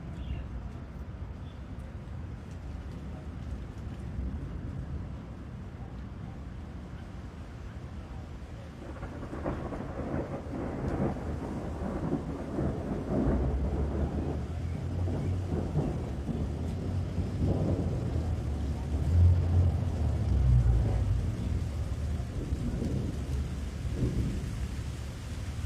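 Steady rain falls throughout, joined midway by a deep rolling thunderstorm rumble that swells and lingers near the end, with no voices.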